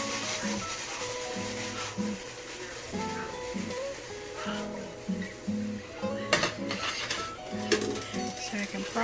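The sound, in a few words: stirring vegetables into turkey meat sauce in a pan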